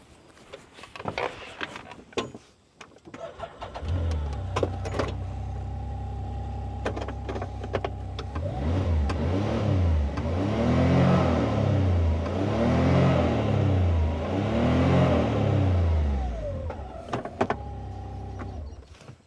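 A few clicks and clunks, then a 2026 Can-Am Defender HD11 Limited utility vehicle engine starts and idles before revving up and down several times, fairly close by.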